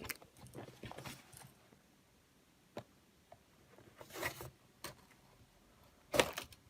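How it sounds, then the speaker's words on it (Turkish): A pocket knife slices the tape on a SteelSeries Apex 5 keyboard box, giving several short scraping and ripping strokes with pauses between them, close and fairly quiet. "Şurada bantları var. Hemen onları şuradaki çakamızla keselim."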